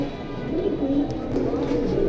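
Pigeons at a Bengali pigeon sale give low, soft rolling coos, steady and fairly close, with a murmur of background noise and no clear talk.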